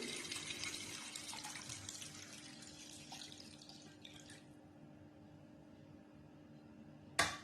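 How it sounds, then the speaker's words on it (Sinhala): About 500 ml of water pours steadily into a pot of chicken for soup, a bright continuous splashing that thins out over several seconds, ending with a short sharp clink. "මම මේකට වතුර මිලිලීටර් 500 එකතු කර ගන්නවා"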